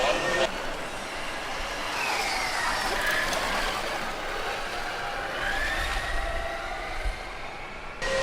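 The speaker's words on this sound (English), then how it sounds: "Augsburg actually has very melodically sounding fans installed on the car" Cooling fans on Augsburg's Formula Student race car during an endurance event give a steady melodic whine with sweeping tonal lines over broad track noise and rumble, fairly loud and continuous throughout.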